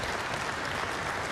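Audience applause breaks out at a political speech celebrating Donald Trump's return to the White House, a dense, steady wash of clapping from a large crowd, loud and continuous throughout with no voices on top.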